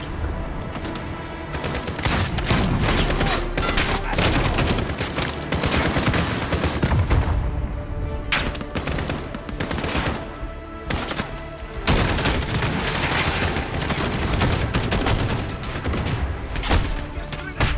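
Loud gunfire in the video game Call of Duty: Modern Warfare (2019 campaign), with sustained bursts of rapid shots and heavy thumps, broken by a few short pauses between volleys.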